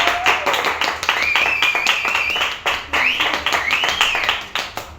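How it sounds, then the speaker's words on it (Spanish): An audience at a storytelling show claps vigorously, dense applause with scattered whoops and cheering voices rising over it for several seconds. "Quiero que reciban con un muy fuerte aplauso a Chiro Benavente."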